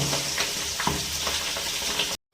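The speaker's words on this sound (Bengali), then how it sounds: "এইবার আরো মাছের মাথা দেব। খুব ফাটে।" Katla fish heads frying in hot oil, with a dense, loud sizzle and scattered popping spatters close up, cutting off abruptly at the end.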